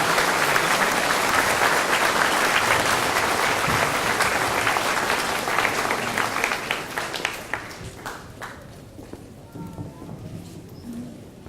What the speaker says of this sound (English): Let's go ahead and give all of our Palm Point men another big round of applause.